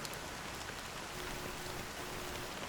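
Steady fine drizzle of rain hisses evenly throughout, a soft constant wash with no voices, from the game Honkai Star Rail.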